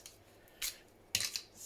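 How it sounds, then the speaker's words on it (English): Large fabric scissors make two crisp snips through cloth, close and fairly quiet, separated by about half a second in an otherwise still room. "So we're going to take our first snip at this. Actually, we need the big scissors for this."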